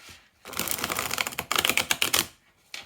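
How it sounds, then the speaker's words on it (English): Rapid flurries of crisp papery clicks and riffles as a Philippe Vachier tarot deck is shuffled, in two bursts separated by a brief pause. "now I'll show you how this deck shuffles"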